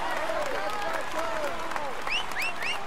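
Crowd applause at a Tour de France cycling podium ceremony, steady clapping throughout with an announcer's voice and whistles rising over it.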